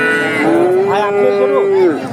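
A cow at the Talgachhi cattle market in Sirajganj gives one long, loud, close moo that rises and falls over about two seconds, with faint crowd murmur beneath.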